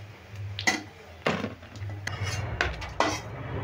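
Fried chana dal fritters are lifted from a wok into a bowl with a metal utensil, giving several sharp clanks and scrapes at irregular intervals over a low background hiss.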